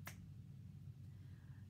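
A single crisp finger snap right at the start, close and sharp, followed by a low steady room hum with no further snaps.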